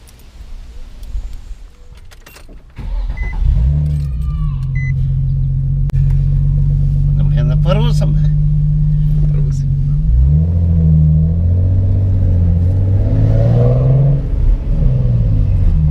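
A Nissan Z sports car's engine starts with a deep rumble, then revs and pulls away, the loud throaty drone rising and shifting as the car drives off.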